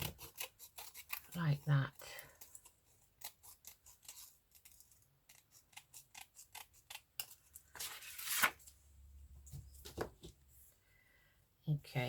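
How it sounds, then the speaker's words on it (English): Scissors fussy-cutting a name out of paper for a collage, with repeated close snips and rustling of paper, under and between soft speech. "I will just cut the name out"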